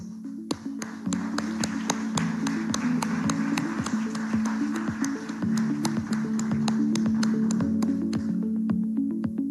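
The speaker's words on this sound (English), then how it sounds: "A round of applause, please." Sparse applause at a live press conference with India's finance minister: scattered, distinct hand claps ring out one after another over a steady low electrical hum, fairly faint and without talk.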